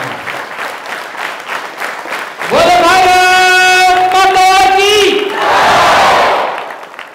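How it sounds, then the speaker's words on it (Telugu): A crowd of tenth-class students claps together at a motivation session, then bursts into a loud, sustained collective shout over the applause, which fades back to clapping at the end. "యూత్ ఫర్ సేవ ఆర్గనైజేషన్ కి క్లాప్స్ కొట్టండి"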